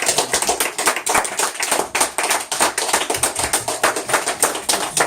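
A church congregation claps together to acclaim the Lord, a dense, steady patter of many hands sustained throughout, fairly loud and close, with no talking over it.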